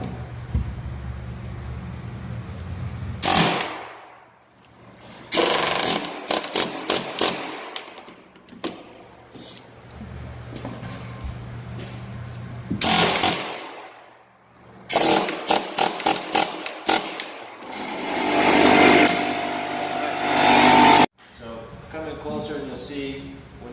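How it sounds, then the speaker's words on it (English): A drill with a half-inch bit bores mortise holes down into oak in repeated loud bursts separated by short pauses, with rattling and chattering as the bit cuts, and someone talking between and over the drilling. "when you drill these holes, you're drilling down with your 1/2 inch drill bit"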